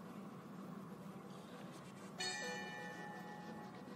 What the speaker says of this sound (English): But today the bell has just rung from the judges.